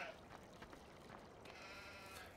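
Sheep bleat in the Farming Simulator 2015 video game, a few faint, thin cries over quiet game background noise.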